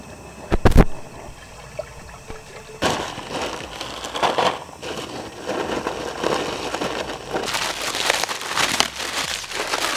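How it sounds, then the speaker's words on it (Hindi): About a litre of water poured into a camping cooking gadget outdoors: a sharp knock early, then steady splashing and gurgling from about three seconds on, fairly close and continuous. "1 लीटर पानी डाल दे।"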